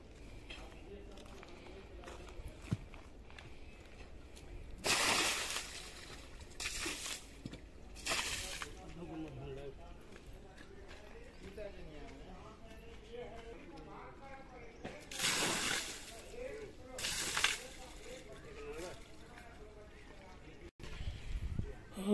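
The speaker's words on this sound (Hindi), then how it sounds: "इसलिए पानी डलवाया जा रहा है सब फुटिंग्स में।" Water is poured into concrete footings on a house construction site, coming in several separate gushing, splashing bursts with quieter gaps between them while someone talks nearby.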